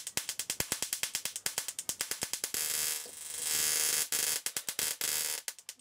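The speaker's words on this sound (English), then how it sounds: "it starts to break the arc, it starts to spark." High-voltage sparking from an ignition coil driven by a 555 timer circuit: rapid regular snapping clicks, then a sustained loud buzzing arc, then more sharp crackling pulses, close and loud with no talking.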